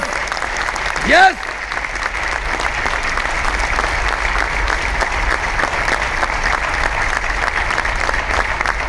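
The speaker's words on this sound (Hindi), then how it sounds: "तालियां इसलिए बजाओ कि आपको अपलाइन के रूप में शेर और शेरनी दोनों मिले हैं।" An audience at a talk breaks into sustained, dense applause that fills the whole stretch, with a brief high whistle or shout rising near the start.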